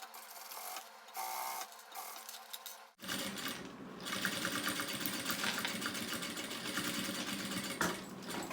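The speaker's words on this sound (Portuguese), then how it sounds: "A gente passa a costurinha beirando aqui." A sewing machine stitches along the bias binding of a thermal lunch bag, with short start-stop bursts of rapid whirring followed by a longer continuous run of close, loud stitching.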